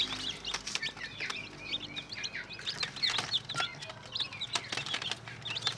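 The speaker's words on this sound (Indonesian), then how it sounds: "Ayam kampung super saya yang tahap pertama dimasuk ke mesin tetes sudah hampir semua menetas." Newly hatched free-range village chicks inside a simple homemade incubator chirp with a steady stream of high, overlapping peeps, close and moderately loud, with occasional soft fluttering.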